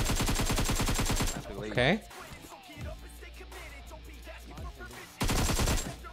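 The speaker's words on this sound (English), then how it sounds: "Looks like we got some shots as well going off" Rapid bursts of automatic gunfire in a mobile battle royale game: a loud, dense volley at the start, quieter scattered shots and effects in the middle, then another loud burst near the end, with a voice briefly speaking.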